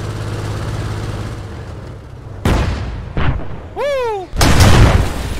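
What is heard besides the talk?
gunner's cannon blast in a video game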